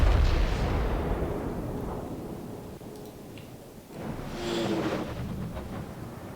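The Yamato battleship's main guns boom in World of Warships, a heavy low rumble that rolls and fades, then a second deep blast swells midway, distant and thunderous with no talking.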